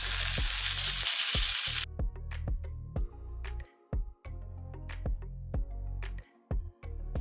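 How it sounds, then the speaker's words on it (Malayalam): Mustard seeds and a dried chilli fry in a tablespoon of hot coconut oil for a tempering. A loud, dense sizzle gives way to sharp, irregular pops and crackles from the seeds, close up with no talk. "ഒരു ടേബിൾ സ്പൂൺ വെളിച്ചെണ്ണ ഒഴിച്ച് കടുക് ഇട്ട് കൊടുത്ത്, ഒരു വറ്റൽമുളക് ചേർത്ത്, കുറച്ച് കറിവേപ്പില"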